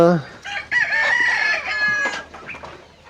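Desi chickens and a rooster on a poultry farm: a loud, close crow rises over steady clucking from the flock, filling the whole few seconds.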